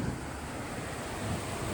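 Rain with wind blowing in through an open window: a steady, broad rushing hiss with low gusty rumble, constant and moderately loud over a short stretch without distinct drops.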